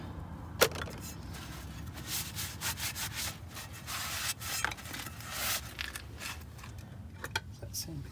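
Sandpaper rubs back and forth on a surface during post-trip maintenance, a close, moderately quiet rasping scrape in uneven strokes with a sharp knock near the start, while a person talks.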